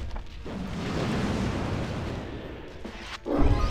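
Fire burns in the video game Psychonauts as a steady, dense roaring rumble, with a brief dip near the end before it swells louder and closer.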